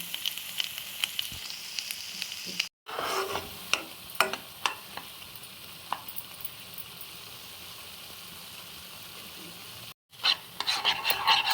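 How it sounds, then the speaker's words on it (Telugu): Masala frying in oil with fried onions for Hyderabadi mirchi ka salan, soft steady sizzle under repeated spatula stirring scrapes and taps, two brief silent breaks, no voices. "చేసిన నూనెలోనే ఈ మసాలా అంతా వేసుకోవాలండి ఆనియన్స్ వేసుకొని పట్టుకున్నాను"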